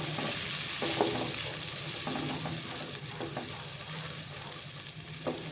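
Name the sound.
frying tomato and green chili paste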